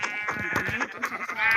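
A sheep bleats in a video game, a wavering nasal cry held for over a second, fairly close over a busy background of game sounds.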